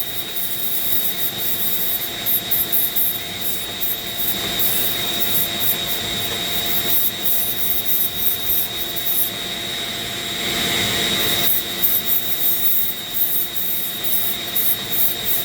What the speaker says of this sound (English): This sanding disc really doesn't fit.